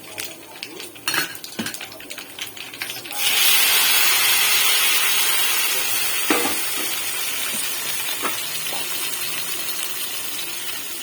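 Chopped tomatoes going into hot oil with golden garlic for a tomato chutney chicken masala. Clatters and scrapes come first, then a loud hissing sizzle bursts in and settles into a steady fry, with a few utensil knocks.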